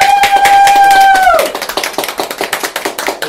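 Applause from an audience at an Instagram symposium talk, a dense burst of many hands clapping, loud and close, with a cheer or whoop riding over the start before the clapping thins into scattered claps.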